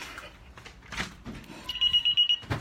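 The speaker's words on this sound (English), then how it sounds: "Oh, that's my alarm." A household alarm goes off indoors, sounding as a short run of repeated high electronic beeps near the end, preceded by quieter room noise and handling sounds.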